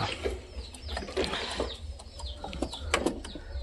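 A red domestic pigeon calls in short, faint bursts, irregular and somewhat distant, with light clucking-like notes and soft rustling, no speech.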